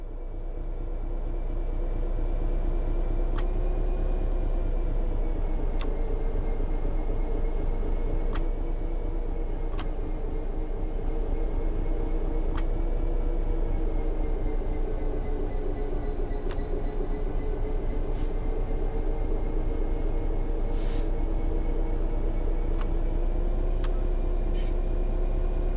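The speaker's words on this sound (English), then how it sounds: "apply some throttle to get the train moving" A train in the Train Sim World 4 game moves under power with a steady low engine and traction motor drone, a constant rumble with faint periodic clicks throughout and no talk.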